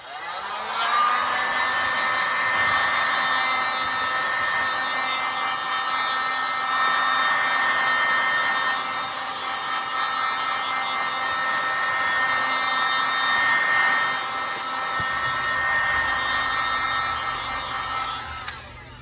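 A heat gun blowing over colored resin poured on a wooden board, a steady loud whooshing hiss of hot air that runs without a break from start to finish.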